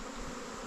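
Bees swarming close around a beehive, a constant soft buzzing drone with no other sounds.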